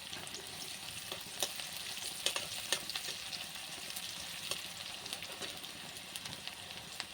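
Bay leaves and whole garam masala sizzle in oil that already holds fried garlic and onion, a steady close crackle broken by occasional spoon clicks and stirring.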